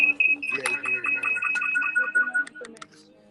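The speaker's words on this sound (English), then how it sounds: "Somebody called your phone through the sound off." A phone rings with a bright, steady electronic tone that repeats through the whole stretch, close and fairly loud under ongoing chatter and people talking.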